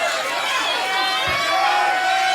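Crowd cheering and roaring at a World's Strongest Man Atlas stones final event, a loud steady wall of shouts and whistles with a commentator talking over it.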